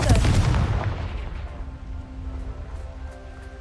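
Bombarda and Confringo explosion spells in Hogwarts Legacy hit with a heavy booming blast at the start, followed by a low rumbling decay that fades over a few seconds.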